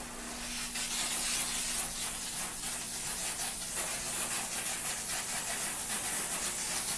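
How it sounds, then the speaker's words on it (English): A Chief Steamer 125 PSI steam cleaner sprays steam and no-rinse solution onto a salt-covered car hood, giving a loud, steady hiss that runs unbroken throughout. "we're gonna basically douse the nose of the car with the no rinse solution in the steam"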